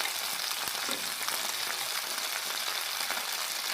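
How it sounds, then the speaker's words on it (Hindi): Okra frying in a kadai pan gives a dense, loud, unbroken sizzle lasting the whole stretch, close up and with no voices. "मैं इसको फ्राई कर रहा हूँ भिंडियों को"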